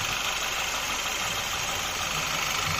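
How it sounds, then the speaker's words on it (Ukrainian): A Skoda Octavia 1.8 TSI petrol engine idles steadily and evenly after repair, a continuous smooth hum with no knocks or odd noises, nobody speaking. "Ось так от працює двигун. Стійко, рівно, ніяких сторонніх шумів, звуків немає."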